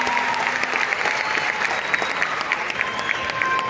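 Loud, steady applause from an audience at a live hip hop concert in the Gran Rex theatre in Argentina, continuous clapping with crowd noise and a few whistles throughout.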